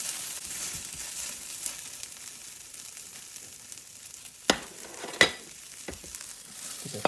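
Onions sautéing in a pan for an omelet give a steady soft sizzle, with a few sharp clacks of a utensil against the pan as they are stirred.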